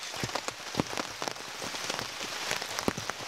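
Rain patters steadily on a swamp campsite, a dense wash of drops with sharper individual hits scattered throughout, close and continuous without any voices.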